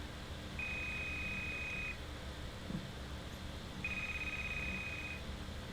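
A cell phone in a horror exploration video game gives two identical steady electronic beeps, each lasting over a second with a pause between, over a low ambient hum.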